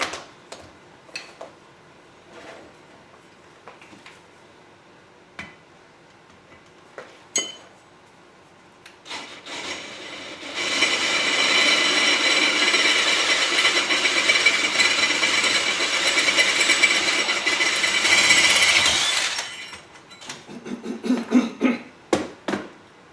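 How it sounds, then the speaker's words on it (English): Power drill boring a 17/64 hole into the end of a winch drum, a loud sustained whirring grind lasting several seconds, framed by scattered clinks and taps of tools and metal parts before and after. "So I'm going to drill a hole into the end here so that it'll be bolted to the end"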